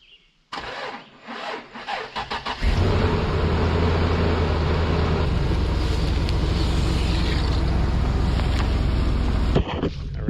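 A dump truck's heavy engine cranks with sputtering turns, then catches and roars into a steady, loud rumbling idle that runs for several seconds before cutting off.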